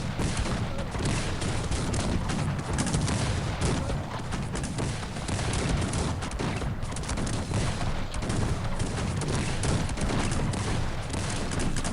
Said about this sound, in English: The multi-barrel cannon from blue are gonna kill the Janissaries.